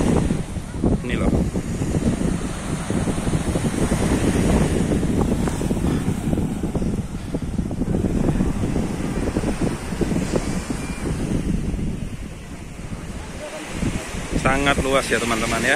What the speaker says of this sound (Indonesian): Jadi ingat namanya Pantai Samudra Indah, terletak sebelum kota Singkawang.